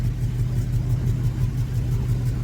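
A 2000 Toyota Tundra SR5 pickup's engine idles steadily, a low, close rumble with a regular throbbing pulse and no revving, no talking.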